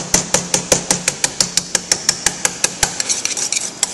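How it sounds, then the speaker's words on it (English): A wire whisk beats clumped tart ingredients in a bowl, giving a steady run of quick, sharp clicking strokes, close and loud, about five per second with no talk. "I'm actually going to start whipping this. I'm going to use a wire whisk"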